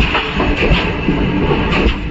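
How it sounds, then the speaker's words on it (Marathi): Konkan Railway's overnight Dadar–Sawantwadi train rolls past at close range, a steady rumble with rhythmic wheel clatter over the rail joints and no voices. "गावाकडून रात्रीची ट्रेन आलेली आहे कोकणकडनं, दादर सावंतवाडी"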